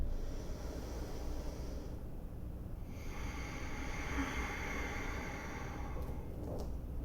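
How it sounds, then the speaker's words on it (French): Slow yoga breathing through the nose with the back of the throat contracted, a long, steady, airy rasp drawn in and pushed out, close and even, under a constant hiss. "Inspire par le nez. Contracte l'arrière de la gorge. Expire."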